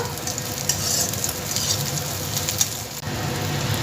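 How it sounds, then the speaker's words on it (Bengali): Onion and two green chillies fry in hot oil in a pan, giving a steady loud close sizzle with intermittent crackles and stirring scrapes, and no one speaking. "পেঁয়াজটাকে একটু ভাজা ভাজা করে নেব আর তার সাথে দিয়ে দিচ্ছি দুটো কাঁচা লঙ্কা"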